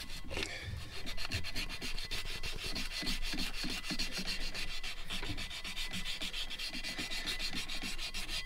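Close, steady rhythmic rasping of sandpaper rubbed back and forth across a Jeep engine pulley, quick repeated strokes continuing alone without talk throughout.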